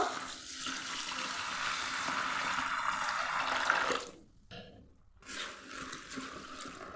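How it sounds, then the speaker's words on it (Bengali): About two kilos of rice are washed in water: a steady rushing pour runs for roughly four seconds, then cuts off, leaving a few quieter splashes and sloshes. "চালগুলো এবার ধুয়ে নেব।"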